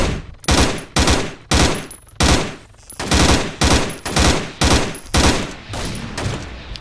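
Rapid bursts of gunfire in the Altis Life video game, shots aimed at a Dodge car, coming in about nine dense volleys roughly every two-thirds of a second, loud and close with no talking.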